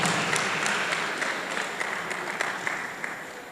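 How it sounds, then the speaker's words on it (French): Church congregation clapping together, a dense wash of applause with sharp individual claps sustained throughout, steady and fairly close without any voices. "Clap for the King of Kings"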